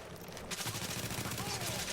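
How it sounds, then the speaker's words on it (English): Heavy gunfire from The Division's Dark Zone multiplayer, starting suddenly as sustained rapid bursts of close, loud shots with a faint voice underneath. "What is that gunfire I'm hearing?"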